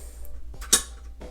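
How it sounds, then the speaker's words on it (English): Lid being set onto a rice cooker holding basmati rice and water: a few soft knocks, then one sharper metallic clink, over a low steady hum. "Let's go ahead and get the lid on and plug that bad boy in."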